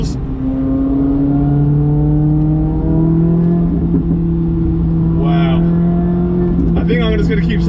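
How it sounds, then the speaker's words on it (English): A Chevrolet C8 Corvette Z06 engine drones loudly at steady pitch on a track lap around 138 mph, with crackling exhaust burbles popping through near the end. "The exhaust is incredible, the little burbles."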